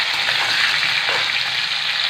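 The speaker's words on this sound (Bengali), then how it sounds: "তো লাল লাল করে ভেজে নেবো আলুগুলো" Big chunks of potato fry in hot oil in a pan for Bengali aloo dum, giving a steady, loud, dense sizzle close up with no breaks and no talking.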